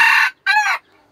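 A wild junglefowl gives a loud, close crow in two harsh bursts separated by a short pause, with no other sound around it.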